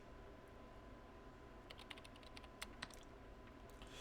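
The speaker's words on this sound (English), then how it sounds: "she began typing on the keyboard with an angry expression." Quiet typing on a computer keyboard in the video game Chaos;Head NoAH, a few scattered clicks building into a brief quicker run of keystrokes over a low steady background hum.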